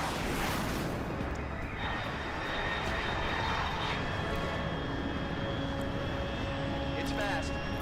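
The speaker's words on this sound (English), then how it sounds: "Unidentified aircraft detected." A fast unidentified aircraft at high altitude passes overhead in Metal Gear Solid Delta, a steady loud engine roar that fills the whole stretch, with a voice talking over it.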